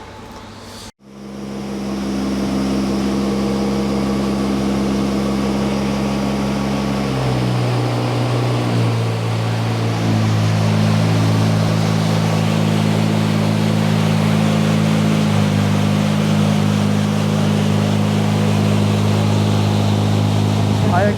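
A Mazda RX-7 with a bridgeported rotary engine runs loud and close, its deep droning note holding steady and then shifting lower as it keeps running.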